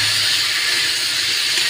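Tomato pieces hit a hot pan of already-fried onion and potato while cooking a jackfruit-prawn curry, and a steady, loud broadband sizzle hisses without pause for the whole moment.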